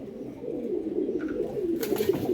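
A Lalmohan pigeon coos softly and steadily at close range, its low murmuring calls running continuously with a slight rise in brightness near the end.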